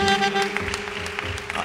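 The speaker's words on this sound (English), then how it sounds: "give God a big hand clap of praise" Church congregation gives a hand clap of praise during a Communion Sunday service, a dense patter of applause with organ or keyboard tones held underneath, steady and moderately loud throughout.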